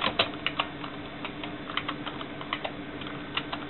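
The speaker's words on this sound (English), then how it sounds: "I'm in the dark typing with one hand" Computer keyboard keys clacking in uneven one-handed bursts on a Compaq Presario 425 in a dark room, close and crisp, with scattered single taps between quicker clusters and no voices.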